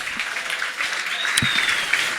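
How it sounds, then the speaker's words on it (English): An evening audience at Trinity Hall applauds the staff, a thick wash of many hands clapping steadily, fairly close and continuous, with a faint whistle-like tone rising briefly midway. "please give a round of applause to the Trinity Hall staff"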